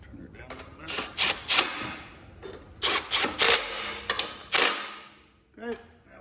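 Screws on hose clamps being tightened while fitting NiceCNC Raptor parts: a series of close, sharp ratcheting and clicking bursts in uneven clusters, with quieter handling noise between them.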